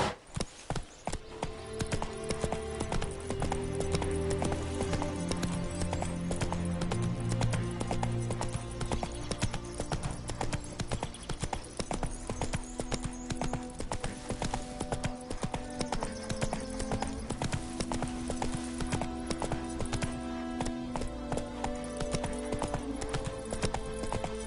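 Hooves of Roach, a horse in The Witcher 3 video game, clip-clop in a fast, steady galloping rhythm, loud and close and running continuously over layered game music with occasional horse snorts.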